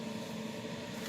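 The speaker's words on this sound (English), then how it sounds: "You might hear the hum of the welder in the background." A welder hums steadily in a workshop during a landscape rake rebuild, a faint continuous drone with no talking.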